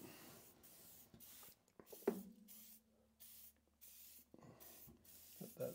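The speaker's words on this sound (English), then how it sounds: "Spray her up." Aerosol spray can hissing onto an old Craftsman radial arm saw during restoration, several short close bursts with pauses between them and faint handling noise.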